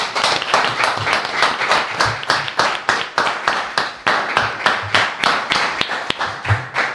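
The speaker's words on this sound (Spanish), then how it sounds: "Alejandro Dolina, este aplauso es para vos." A television studio audience claps for the writer Alejandro Dolina, loud and close, with strong beats falling in a regular, almost unified rhythm for several seconds.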